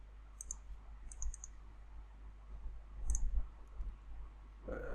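Computer mouse buttons clicking in a quiet room: small sharp clicks in quick pairs and triplets, a few bursts spread over several seconds, close but faint over a low hum.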